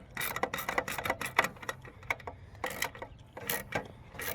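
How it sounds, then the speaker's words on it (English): Screw being tightened with a quarter-inch driver or ratchet while installing an air conditioner soft-start kit, giving rapid close ratcheting clicks in uneven bursts with brief pauses. "just tighten it down. You can do it, of course, with a screwdriver or a 1/4 inch driver."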